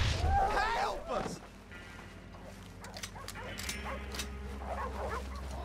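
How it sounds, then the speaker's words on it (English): Dogs bark and yip at a distance in Red Dead Redemption 2, scattered short calls over a steady low rumble and faint mechanical clatter, with no voices. "I'll keep these dogs at bay."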